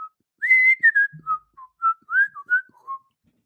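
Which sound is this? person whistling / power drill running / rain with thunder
person whistling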